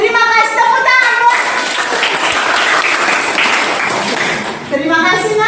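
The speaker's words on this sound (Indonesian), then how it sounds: "terima kasih tepuk tangan" A classroom of schoolchildren at a junior high school in South Nias claps together in a steady burst of applause, with a teacher's and children's voices heard over the start and end.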